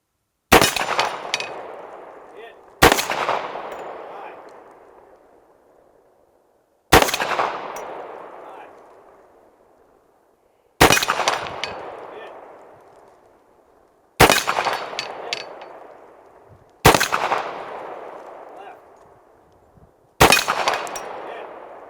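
Seven loud, sharp gunshots with 180 grain ammunition ring out at a small target on an IPSC shooting range, fired singly or in close pairs several seconds apart, each with a metallic ring and a long decaying echo.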